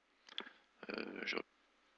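Typing on a computer keyboard during a Blender modelling session: a few quiet, sharp key clicks, then a short rapid burst of keystrokes, faint and close in a quiet room.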